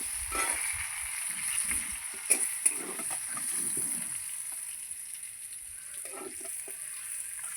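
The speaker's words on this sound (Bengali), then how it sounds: "একটু হলুদ ভালো করে ভাজবো সিম আমার ভালো করে ভাজা হয়ে গেছে" Beans and turmeric fry in oil in a pan, a steady close sizzle with occasional clinks of stirring and no talk.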